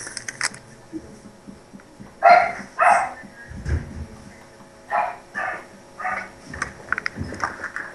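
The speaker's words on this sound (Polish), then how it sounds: "Uspokój tego psa, dobra?" A dog barks in short sharp bursts, a few loud barks and yips scattered across the clip with pauses between, fairly close, alongside a farm simulator game.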